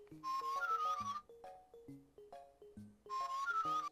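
A Nintendo DSi plays its whistle sound effect: two sustained shrill whistle tones bracket a run of short stepped electronic notes, clean and close with no talking.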